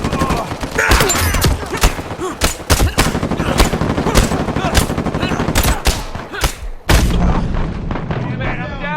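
Rapid bursts of gunfire from the Uncharted 4 multiplayer video game crackle loudly and almost continuously, with repeated sharp shots and a heavier blast near the end, while players talk over the action.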